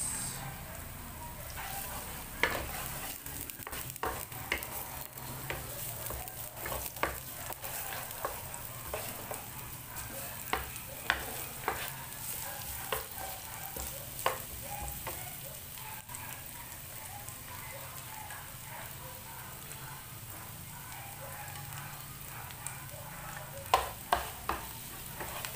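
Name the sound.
onions frying and being stirred in a pan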